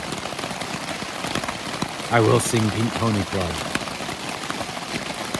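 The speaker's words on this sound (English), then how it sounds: "So hopefully you can hear all that. It's raining." Rain falls steadily at a camp on the Appalachian Trail, a constant close hiss of drops on a surface, while a voice briefly sings over it partway through.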